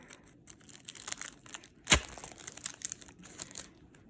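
A trading card pack being torn open by hand, with soft crinkling foil wrapper sounds, one sharp loud rip near the middle, and lighter rustling and crackling around it, close up with no talking.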